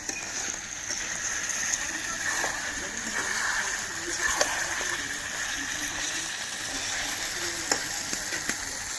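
Mutton cooks down in a pan for curry with a steady close sizzle, wet spattering and occasional stirring clicks, while voices talk faintly underneath.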